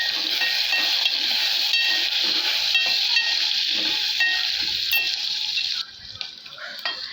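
Ginger-garlic paste and turmeric frying in hot oil in a pan for ridge gourd curry, with a steady, loud sizzle and occasional stirring scrapes; the sizzle drops noticeably near the end.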